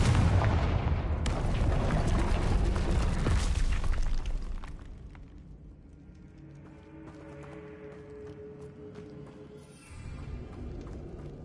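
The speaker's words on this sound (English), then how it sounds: "Confringo." A Confringo spell explodes in Hogwarts Legacy, giving a loud, sustained rumbling blast that fades after about four seconds into quieter game music and ambience, followed by a smaller thump near the end.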